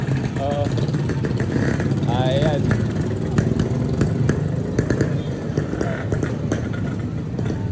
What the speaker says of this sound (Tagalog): yung mga motor na tumambay dito ngayon sa amin dito sa may Morong Rizal